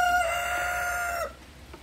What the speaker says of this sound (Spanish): siempre que estoy grabando, tienen que cantar un gallo